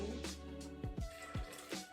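Water poured into a bread dough mix of flour and oil, heard as a few quiet drips and small splashes at close range, with no talk.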